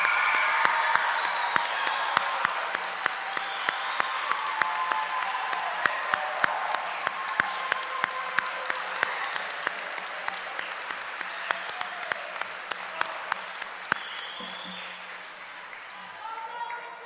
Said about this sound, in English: if we could just one more time give them a round of applause for what they've accomplished